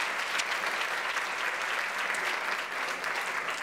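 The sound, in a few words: audience applause for a dancer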